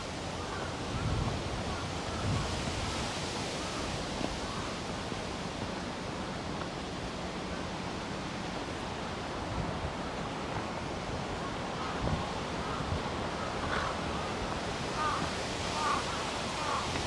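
Steady wind blowing outdoors at Hamarikyu Gardens in Tokyo, a broad constant rush buffeting the microphone with slight gusts, no voices over it.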